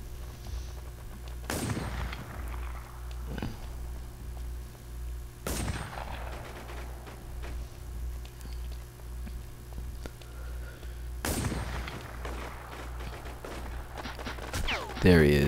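Three sharp gunshots in War Inc. Battlezone ring out several seconds apart, each echoing briefly over a low steady background hum.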